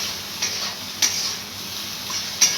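Rice stirred into egg fried rice in a pan: a faint, steady sizzle broken by three brief spatula clinks against the pan, close by and without any speech.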